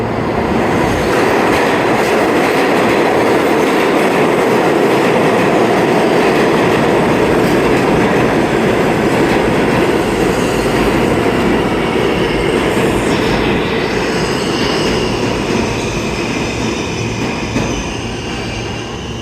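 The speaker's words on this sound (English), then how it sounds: "On the local Uptown track, we have another E-train. That's an R160." An R160 E-train, a 10-car New York subway train, passes through Penn Station on the 8th Avenue line, a loud close continuous rumble of wheels and clattering cars with faint squeals near the end.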